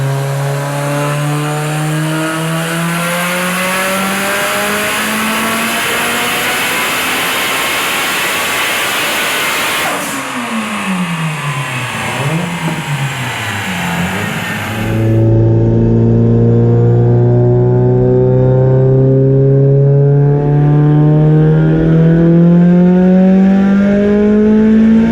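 A sequential-gearbox Mitsubishi Evo IX making about 1100 hp at 50 psi on pump E85, revving loud and continuous on a dyno, its pitch climbing steadily through successive gear pulls with a harsh, roaring tone.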